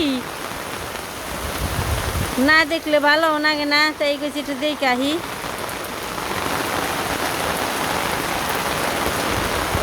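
Morning rain falls steadily in a village, a dense hiss of drops spread evenly throughout, while a person speaks briefly over it for a few seconds in the middle.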